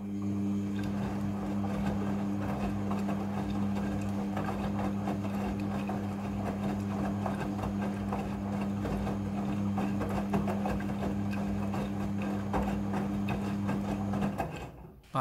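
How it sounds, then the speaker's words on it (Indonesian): A Midea front-loading washing machine hums steadily through its rinse cycle, a close, even motor drone with faint churning water that runs unbroken for about fourteen seconds before cutting off abruptly. "Pada proses pembilasan dengan air, mesin cuci akan mengatur jumlah kebutuhan air secara otomatis."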